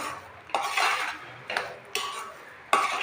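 A utensil stirs coconut laddu mixture in a pan, giving repeated scraping, clattering strokes against the metal, four or five distinct bursts at an uneven pace, close and clear with no speech.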